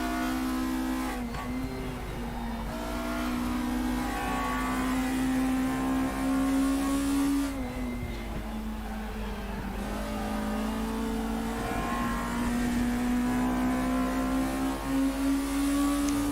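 A Group A racing car engine in the RaceRoom Racing Experience game revs hard and shifts through the gears, each rising whine dropping sharply and climbing again. The sound is loud, close and continuous, with no talking.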